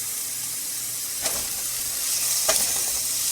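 Green leafy vegetables frying in a pan, a steady close sizzle with two soft stirring scrapes partway through.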